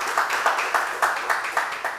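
An audience claps together in a steady, rhythmic beat at a French-speaking public event, the clapping dense and close with a little crowd noise underneath.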